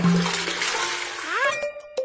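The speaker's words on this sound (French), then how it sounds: "N'oubliez pas de tirer la chasse d'eau." A cartoon toilet flush rushes loudly with splashing, swirling water, then ends in a rising whistle-like tone and a brief chime-like sound, with a voice faintly present.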